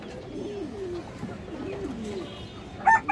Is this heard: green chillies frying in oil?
no